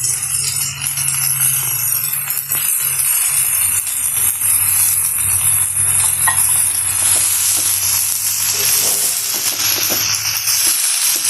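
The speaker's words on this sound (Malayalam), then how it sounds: "ഇനി ഇതിലേക്ക് ഇലകൾ ഇട്ട് കൊടുക്കാം." Chopped kodithoova leaves hit hot oil with popped mustard seeds, giving a loud, steady sizzle and frying hiss with occasional stirring clinks throughout.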